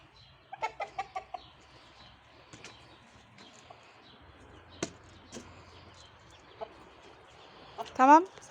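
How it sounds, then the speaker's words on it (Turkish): A rooster and chickens cluck in short scattered bursts around a quiet farmyard, with sparse clicks and a brief louder squawk near the end. "Baba horoz da burada."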